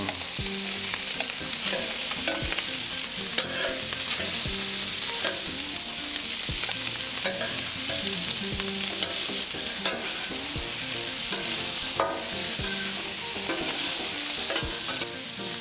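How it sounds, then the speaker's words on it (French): Onions frying on a hot plancha for rougail saucisses, a continuous loud sizzle with frequent clacks and scrapes of a utensil stirring throughout, no voices. "Alors, on ajoute de suite les oignons."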